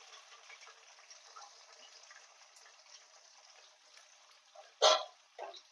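Onions sizzle steadily in hot oil in a pan while a stuffed eggplant curry is being made, a continuous even hiss broken near the end by a sharp, louder splash-like burst and a smaller one after it.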